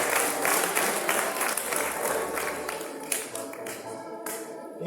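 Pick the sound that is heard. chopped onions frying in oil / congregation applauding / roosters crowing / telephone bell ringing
congregation applauding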